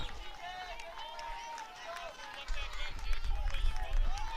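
Crowd noise fills the stands at a regional softball game between Erie and Ponderosa: a steady murmur of cheering and chatter, with some claps, that swells louder in the second half, and a commentator's voice runs over it.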